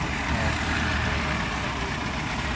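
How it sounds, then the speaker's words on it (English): A Ford Model T engine runs steadily, a continuous low rattling idle with no pauses or voices over it. "Just got a Model T rattling away here"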